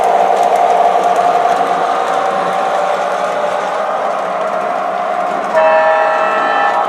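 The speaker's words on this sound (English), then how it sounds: "There's the second blowing of the horn." An MTH Proto 3 O gauge model diesel train runs on its track with a steady rolling rumble, and its horn sounds clearly near the end over the motor noise, close and fairly loud.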